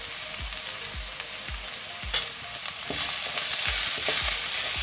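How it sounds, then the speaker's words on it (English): A spoon stirs spiced onions and okra in a hot frying pan. Steady loud sizzling runs throughout, with regular scraping strokes that grow more intense toward the end, and no talking. "So I'm just going to give it a good mix so the spice and the onions, everything mix properly."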